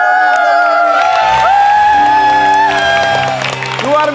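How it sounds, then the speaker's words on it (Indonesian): A studio audience on the Indonesian game show Family 100 applauds and cheers loudly, with shouts and whoops that fill the whole stretch and quiet only slightly near the end. "Tepuk tangan."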